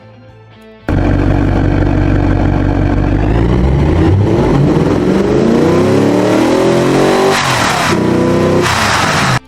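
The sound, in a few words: modern muscle car engine revving in Automation/BeamNG video game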